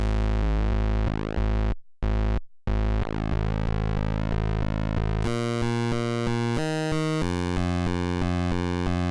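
Korg ARP 2600 synthesizer tone modulated by the square wave from oscillator 1, a sustained harmonic buzz that sweeps and then shifts into a stepped, chopping pattern, loud and alone with no voices.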